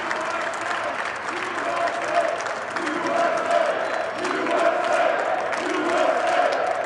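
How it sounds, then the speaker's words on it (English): A crowd at the New York Stock Exchange claps along and chants right after the bell is rung. Rhythmic shouted chant phrases repeat over dense, continuous clapping and crowd noise, loud and close throughout. "Everybody clapping along."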